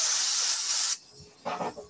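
Aerosol accelerant sprayed onto a lathe-turned pen during pen turning: one long loud hissing spray that stops abruptly, then a second shorter, softer spray burst close by.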